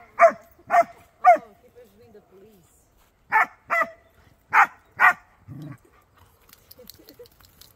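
A dog barks in short bursts, three quick yaps and then four more after a pause, playing in sand at the beach, with quiet voices and a low whimper in between.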